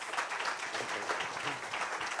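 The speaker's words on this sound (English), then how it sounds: "So can we have a round of applause and thank our guests?" Audience applause at a speaker-series event, a dense, steady patter of many hands clapping that fills the hall for the full stretch without a break.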